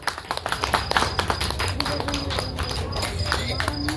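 An audience at a folk dance program at Simariya claps for a group of six girls after their dance, with brisk, continuous hand claps running under someone speaking over a microphone.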